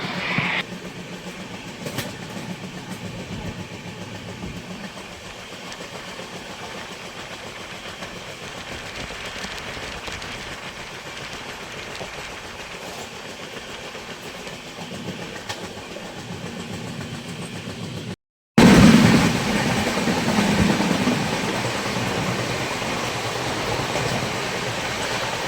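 The Jnaneswari Express rolls through Odisha with a steady, low rumble of wheels and carriage, ending in a sudden louder burst of rattling rail noise.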